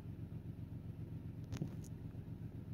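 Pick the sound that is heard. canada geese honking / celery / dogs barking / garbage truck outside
garbage truck outside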